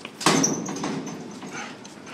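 A puppy gives a faint, thin whimper among soft rustling and handling noises close by, with a brief knock-like sound near the start and no talk.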